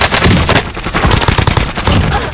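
Gunfire in the video game Call of Duty Warzone rattles out as a loud, dense burst of rapid shots lasting a couple of seconds, harsh and close.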